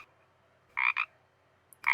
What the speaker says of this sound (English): there's actually only one frog that makes a ribbit sound. It's called the Pacific chorus frog.